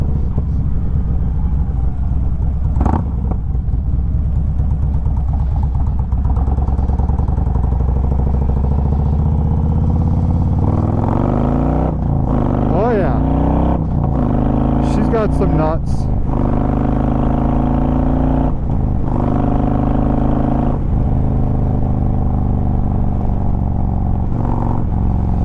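A Harley-Davidson motorcycle on the move: a steady engine drone and wind rumble build into several rising and falling throttle revs midway through, loud and close.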